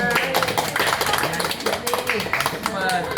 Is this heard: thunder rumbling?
no